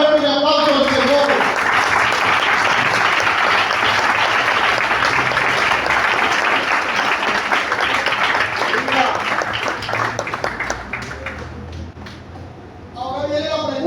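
Applause from a church congregation praising the Lord during a Spanish-language service, a loud, dense wash of clapping that fills most of the stretch before tapering off near the end.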